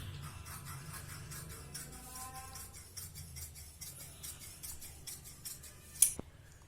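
Scissors snip through saree fabric with a border while cutting an umbrella-cut lehenga: soft, close cutting rasps run steadily in a quiet room, ending in one sharp click near the end.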